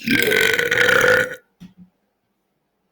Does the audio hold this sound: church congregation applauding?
no